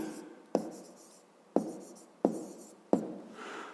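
Chalk or marker writing on a classroom board during a fifth-grade math lesson, with four sharp taps as each stroke starts and a scratchy trailing drag between them, close and clear with no talk.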